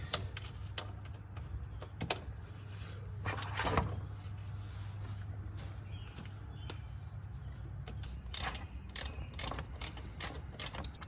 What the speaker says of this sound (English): That's gonna be a size 13, You can use either a wrench or socket